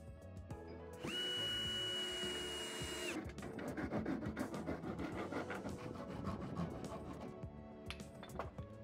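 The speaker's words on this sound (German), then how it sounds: "Die Enden werden abgekappt." Power saw trimming the ends of wooden roof battens on a garden sauna, a steady high whine for two seconds followed by rough rasping cutting noise and scattered knocks, close and fairly quiet.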